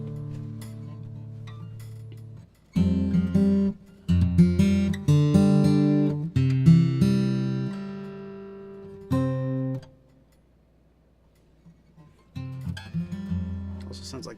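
A Martin BR-160 acoustic guitar plays bursts of strummed chords and picked notes with pauses between phrases, ringing clearly up close, then briefly goes quiet before resuming more softly.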